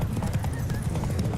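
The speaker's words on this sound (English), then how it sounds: "Don't spare the horse!" A horse gallops hard during a race in The Witcher 3, its hoofbeats a steady, loud, rapid clip-clop that fills the stretch, with a brief whinny mixed in.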